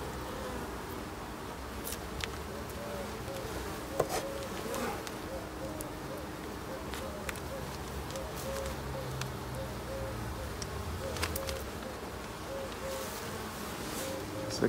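Honeybees drone in a steady, dense buzz around an open hive during an end-of-summer colony inspection, the hum sustained throughout with scattered clicks and handling noises close by; a voice speaks occasionally over it.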